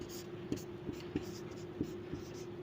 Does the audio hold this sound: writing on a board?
yes